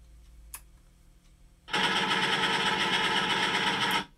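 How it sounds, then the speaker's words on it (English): Rapid machine-gun fire sound effect from the Grey Goose RC model boat, a loud dense burst of about two seconds that starts abruptly after faint background noise and cuts off sharply. "It's got some machine gun fire."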